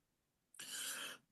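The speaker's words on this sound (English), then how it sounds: "Cough." A single short, breathy cough close to the microphone, a loud burst lasting about half a second after near silence, then fading out.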